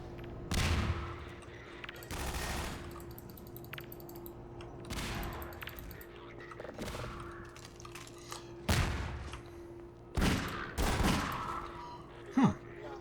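Grenade blasts and gunfire in Half-Life 2 ring out as a string of heavy booms and bursts of shots, spaced every second or two over a steady low background hum.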